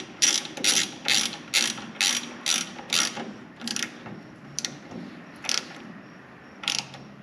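Ratchet tightening a bolt on a D-shaft mechanism: a quick run of about eight sharp, evenly spaced clicking strokes, then a few slower isolated clicks, close and clear with no talking.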